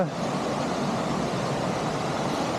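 Water pouring steadily over a steep weir at Hoghton Tower, a continuous broadband rush that stays close and even throughout with no talk.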